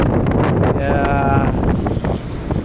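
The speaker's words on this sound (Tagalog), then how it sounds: "malakas lang yung hangin" Strong wind buffets the microphone in a steady low roar on a ship's deck during cargo hold washing, with a brief faint whistling tone partway through.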